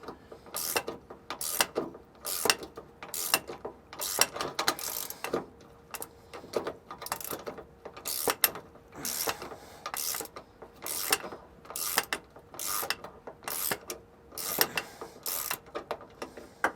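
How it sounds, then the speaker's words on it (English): Ratchet socket wrench with a 1/2 inch socket clicking as it backs two nuts off a 2018 Freightliner truck, repeated close bursts of sharp ratcheting in an even working rhythm. "you can use a 1/2 inch socket and wrench and remove these 2 nuts"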